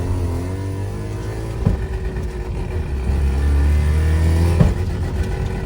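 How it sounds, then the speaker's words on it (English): Car engine idling and revving, with two sharp mechanical clunks as the clutch is pressed while shifting, the second followed by a steadier, louder engine tone. "When I put the clutch in, it's a big clunk."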